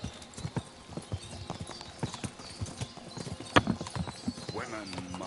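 Horse hooves clip-clop in steady, repeated footfalls in the medieval game Kingdom Come: Deliverance II, fairly close, with a brief whinny-like sound and people talking over the hoofbeats.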